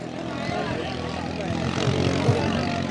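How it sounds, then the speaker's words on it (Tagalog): A racing boat engine at the Santa Rosa bancarera race in 2024 revs hard, a dense continuous droning roar that swells slightly, with a voice talking over it. "Talagang binirit na, pinainit ang makina!"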